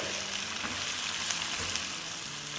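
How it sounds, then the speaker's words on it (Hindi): Sliced onions sauté in hot oil in a pan for okra masala, a steady close sizzling and crackle with faint stirring, no voices. "इसको सौटे करेंगे"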